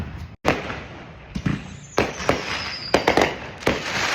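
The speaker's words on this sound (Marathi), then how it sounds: "आमच्या इथेच फायरवर्क्सचा शो चालू आहे" Fireworks burst during a US Independence Day display watched from home, several sharp booms and crackles arriving in irregular bursts with a faint whistle trailing between them, fairly loud and close.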